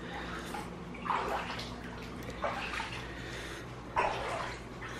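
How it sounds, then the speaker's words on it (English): Two pumps pump floodwater out of a flooded basement, giving a steady close rush of gushing water with a continuous low drone underneath and three brief louder surges. "There are two pumps working now."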